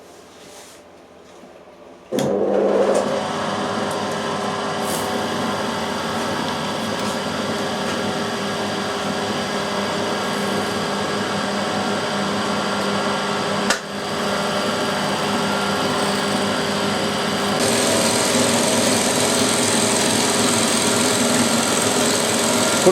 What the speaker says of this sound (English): I've just got enough travel to be able to machine this edge square